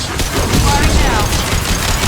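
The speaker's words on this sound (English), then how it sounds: "Firing now." Dense, rapid gunfire from the video game Mass Effect 2 rattles loud and continuous, with bursts blending into one another and a voice faintly mixed in.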